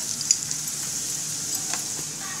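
Browned onion with turmeric and coriander powder sizzles in a pan for bharose, a steady close frying hiss with faint occasional crackles and no voices.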